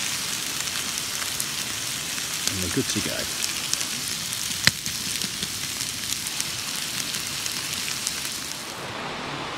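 Chicken sizzles over a campfire alongside potatoes and green beans at a bushcraft camp, a constant crackling hiss that runs throughout with a brief voice and a sharp pop partway through.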